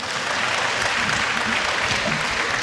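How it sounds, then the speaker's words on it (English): Applause from the audience at a medical sciences faculty pledge ceremony fills the hall, a continuous loud wash of many hands clapping through the whole stretch. "So once again, we're just clapping you."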